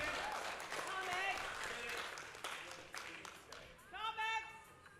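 Crowd at a women's bench press powerlifting nationals applauding and cheering a lifter, broad sustained clapping with voices shouting over it throughout.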